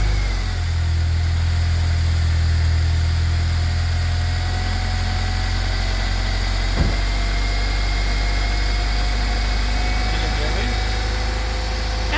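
A K20-swapped Honda Insight sits idling after a cold winter start, a steady, close engine rumble with a constant low hum and a faint whine throughout, one brief knock midway.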